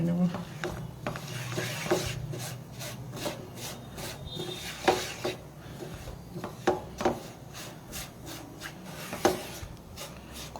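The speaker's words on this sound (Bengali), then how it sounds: "আমুল পাউডার মিল্ক দিয়ে খুব ভালো করে আবারও ভেজে নেব" Semolina with Amul milk powder is roasted and stirred in a pan, giving repeated scraping and rubbing strokes of a spoon against the metal. The strokes come in an uneven rhythm and sound close and moderately loud.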